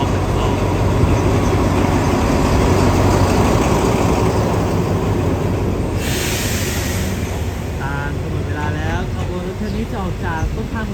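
A Sprinter diesel railcar on rapid train 997 pulls into a station platform, its steady engine and wheel rumble droning continuously, with a voice heard over it and a brief higher tone near the end.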